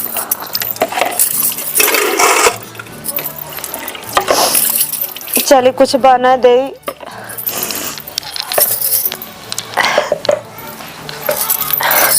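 Dishes being washed at home, with water running and pots clinking: splashing and trickling water with scattered metallic clatter, heard between stretches of someone speaking.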